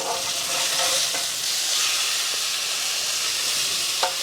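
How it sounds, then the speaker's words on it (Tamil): A whole boiled chicken fries in oil with chili powder in a village kitchen: a loud, steady sizzle runs throughout, with a few soft stirring clinks and one sharper knock near the end. No one speaks. "வேக வச்ச சிக்கனை பொரிச்சு எடுத்துக்கலாம்."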